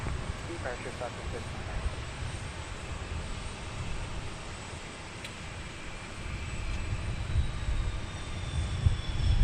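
A fixed-wing airliner lands at Portland International Airport, heard as a distant, broad engine roar that swells toward the end over steady outdoor wind noise, with no close voices.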